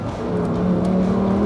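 Lamborghini Huracán STO with a seven-speed dual-clutch gearbox, its engine and exhaust droning steadily and loudly at a sustained pitch as it drives through a corner, with no voices over it.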